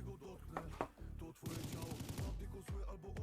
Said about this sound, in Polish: rzucamy granat hukowy, więc spoko